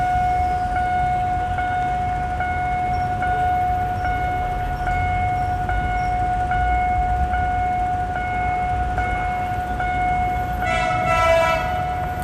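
A loud, sustained train horn blares steadily for several seconds at the Phet Uthai Road railroad crossing in Bangkok, with the rumble of a passing Alstom locomotive underneath.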